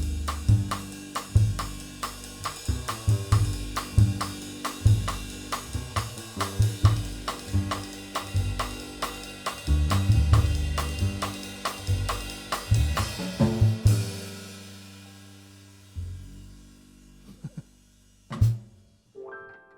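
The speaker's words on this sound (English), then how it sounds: "what makes this groove unique is going to be the 4 on the rim" Drum kit groove in a duple feel with a rim click landing on beat four, played alone at steady tempo for about fourteen seconds before stopping, followed by a few isolated hits and decaying ring.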